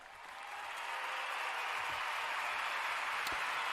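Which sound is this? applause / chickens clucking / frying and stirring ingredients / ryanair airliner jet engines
applause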